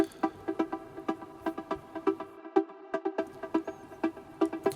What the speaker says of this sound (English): the other thing that I wanted to have on top of that as well is another stab arp